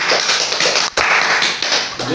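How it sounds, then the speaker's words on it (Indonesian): Children's preaching contest audience in Aceh Singkil claps hands, a dense, loud burst of many hands patting continuously with a brief dip midway, near and busy. "Tepuk tangan."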